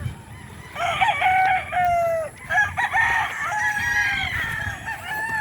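Sweater-breed gamefowl roosters on a farm crow in drawn-out calls, several overlapping, with clucking mixed in against a low outdoor background, fairly close and clear, without talking.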